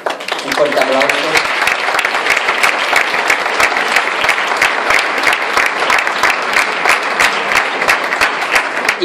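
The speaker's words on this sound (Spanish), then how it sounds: "Y cómo no, un fuerte aplauso." A crowd gathered for a village festival proclamation in Barrial de Gáldar applauds loudly and steadily, dense clapping filling the whole stretch with a brief voice heard early on.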